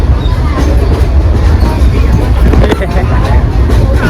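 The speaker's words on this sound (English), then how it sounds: "We're on this train." Riding aboard a passenger train, a loud, close, continuous low rumble of wheels and carriage with rattling and shifting noise throughout, with faint voices mixed into the din.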